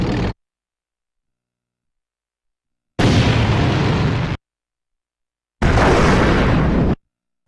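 Tank shell explosions in Global Defence Force Tactics: three loud, close blasts, each a harsh, noisy burst lasting a second or more, separated by dead silence, with no speech.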